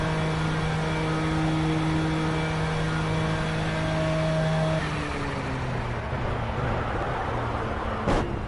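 Race car engine of the MP2 class in the racing game Project CARS, a steady sustained drone with tonal whine that shifts pitch midway as the car drives on, loud and continuous with no talking.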